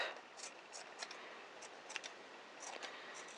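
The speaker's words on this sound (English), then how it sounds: "Gonna get my larger scissors so I don't take chunks out of it. And now we just trim it up" Large scissors snip repeatedly through a yarn pom-pom for a small knitted bunny, giving quiet, close, irregular crisp cuts with short pauses between them and no talking.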